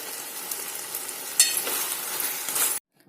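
Chicken pieces sizzling in a pan as ground masala paste is stirred in, a steady close frying hiss with a few scraping stir strokes, no voices, ending abruptly.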